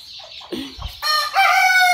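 Native deshi chickens and chicks on a rooftop give a few close clucks, followed by a loud, sustained rooster crow that fills the end of the moment.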